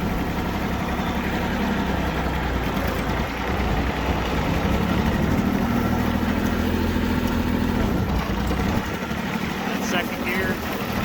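An International 244 tractor engine running in high range, a steady low chugging drone close by with slight shifts in tone, joined by clattering and someone talking.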